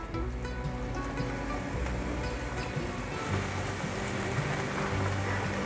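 Seasonings with soy sauce and vegetarian oyster sauce stir-fried in a pan for braised shiitake and winter melon, giving a steady, dense sizzle and crackle throughout, close and alone with no voices.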